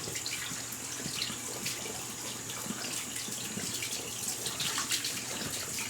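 Tap water runs steadily over a large-knot shaving brush as the soap is rinsed out at a sink, giving a continuous close hiss and splash with no talking.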